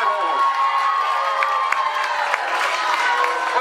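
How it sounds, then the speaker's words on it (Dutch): A crowd at a football club tournament claps and cheers steadily for the club's volunteers, a lively mix of applause, whoops and children's shouts. "Jongens, applaus voor Vijfvogels."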